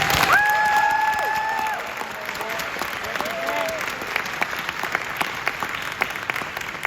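An audience at a school holiday choir concert claps loudly at first, then the applause thins into scattered claps. A whistle-like tone and faint voices rise over the start.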